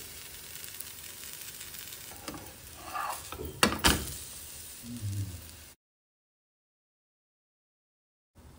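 A corn and tomato omelette fries in oil in a pan, a soft continuous sizzle with a few stirring or spatula scrapes, then cutting out to silence.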